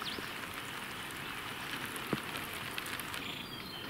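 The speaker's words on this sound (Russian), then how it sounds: "Вот опять дождишко накрапывает." Light rain patters steadily outdoors at an apiary. The soft, even hiss of drops is broken by a single sharper tap midway, and no one speaks.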